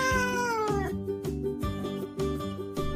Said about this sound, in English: Look, the cat is running along the yard